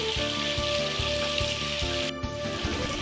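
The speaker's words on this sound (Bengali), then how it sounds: "অপর দিকটাও 4 মিনিট ভেজে নিলাম হালকা গোল্ডেন করে।" Chicken pieces fry in hot oil with a dense, continuous sizzle and crackle. A steady rhythmic thumping runs underneath throughout.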